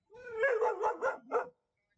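A dog gives a quick burst of four or five sharp barks and yips in a row, close and clear against an otherwise quiet room, then falls silent.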